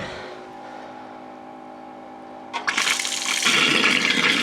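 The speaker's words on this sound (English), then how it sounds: "Just to blow out the residual there. And let that just gurgle." Compressed air is blown through the water lines of a home or cabin plumbing system, and a quiet hum gives way to a sudden loud gurgling, sputtering rush of water and air that keeps building.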